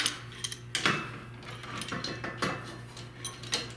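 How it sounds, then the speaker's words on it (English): Vice grip clamps cranked down on sheet metal at the edge of a table: quiet ratcheting clicks and metallic snaps in an irregular series, close by and fairly faint. "Clamp these down as tight as possible."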